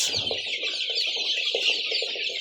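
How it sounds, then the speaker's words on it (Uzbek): Month-old Andijan black chicks cheep continuously in a shrill, overlapping chorus, with soft low clucks and rustling beneath, close and fairly loud. "Andijon qora jo'jalarimiz sotuvda"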